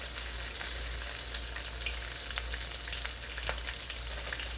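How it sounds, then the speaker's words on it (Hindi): Chopped potatoes and capsicum fry in butter in a pan, giving a steady close sizzle with small pops and crackles throughout, no voices. "तो यहाँ पर हम शामिल कर देंगे जो आलू हमने काट के रखा था चॉप करके।"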